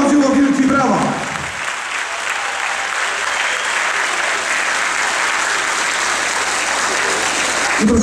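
Crowd applause at a sports event in Ustroń, following a brief announcer's voice at the start, then sustained dense clapping that stays loud and even to the end.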